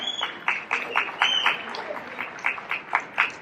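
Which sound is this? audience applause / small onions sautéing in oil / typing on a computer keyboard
audience applause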